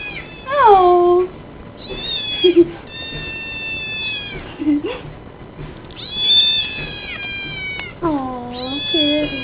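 A cat meows repeatedly in rising and falling calls, some drawn out and wailing, close and fairly loud, while a person talks softly in between.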